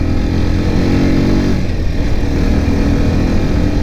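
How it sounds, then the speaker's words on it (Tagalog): A 200cc motorcycle engine hums loud and close while riding, a steady mid-pitched drone with wind rush that dips briefly partway through, then holds even. "Ang sarap sa feeling mga lods makapag-drive ng 200cc. Tahimik yung motor niya."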